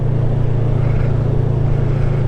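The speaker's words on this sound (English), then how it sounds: "so wait for this truck to get by me." A truck rumbles past a motorcycle on the road, with a steady low engine drone and a broadband roar that stays loud and close throughout, with no talking.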